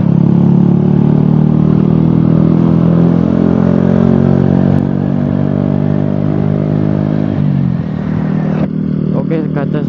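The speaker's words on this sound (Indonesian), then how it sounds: "kaca saya tutup lagi soalnya berisik suara anginnya" Steady wind rush roars loud and close while riding a motorcycle, with the bike's engine droning beneath it before the noise eases and drops toward the end.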